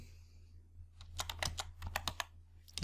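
Quiet typing on a computer keyboard while entering an Excel formula, a quick uneven run of close key clicks starting after a brief pause, over a low steady hum.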